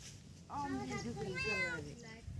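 A kitten gives a single soft, wavering meow lasting over a second, faint and at a distance against a low background hum.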